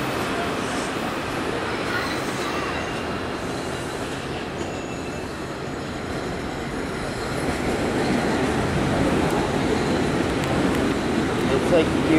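An M7 commuter train rumbles past nearby at the Park Avenue portal, wheels clattering and squealing on the rails, growing louder toward the end, with some talking underneath.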